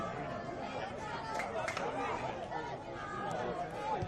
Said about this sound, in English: Big crowd building here on this gorgeous Sunday afternoon